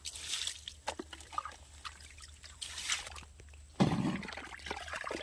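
Water is scooped and poured out of a crab burrow dug in the ground, soft trickles and drips with small splashes and a louder slosh near the end, close but quiet.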